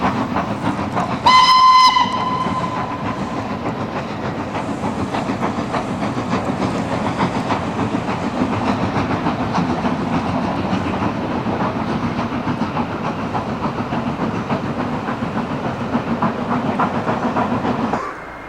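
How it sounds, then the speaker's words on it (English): A steam train on the North Wales coast gives a short, loud whistle at the start, then rumbles and clatters steadily past at close range for a long stretch. "the regular steam trains which ply the North Wales coast add to the atmosphere of this majestic town."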